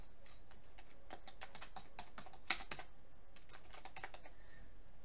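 Rapid bursts of keyboard typing, close and clear, clicks coming in uneven clusters with short pauses between.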